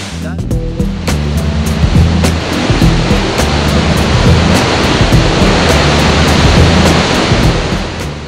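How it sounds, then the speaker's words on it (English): Trümmelbach Falls, a glacier-fed waterfall inside a mountain in Lauterbrunnen, thunders as a dense, steady roar of rushing water, loud and close, with clicks and a faint tone early on. "It is a glacier-fed waterfall carved deep inside the mountain."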